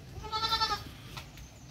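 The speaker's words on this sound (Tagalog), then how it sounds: "Ito na po yung kambing ko," Several goats bleat together on a small farm, a brief chorus of wavering cries in the first half followed by quieter farmyard background.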